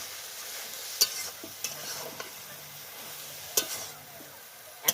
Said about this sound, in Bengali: ভালো করে এরকম করে কষিয়ে নিতে হবে।